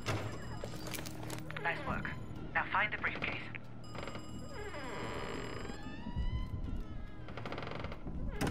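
A telephone call in the video game Call of Duty: Cold War to Krauss's apartment, with electronic ringing and dial tones coming in short bursts between bits of game sound and voices talking.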